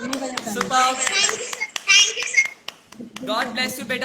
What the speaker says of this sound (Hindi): और पार्थी के लिए जोरदार तालियां दिल से